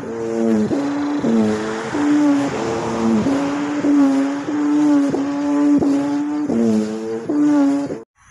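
A handmade rattan-leaf kite hummer, a first-time build, drones steadily in the wind beside a road, its buzzing tone pulsing in and out in repeated surges at close range and fairly loud, with traffic-like noise underneath before it cuts off.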